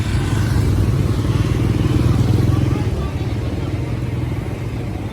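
A motorcycle engine drones steadily close by, a rough mid-pitched rumble that holds for a few seconds under faint background chatter, on a road in Preah Trapeang province.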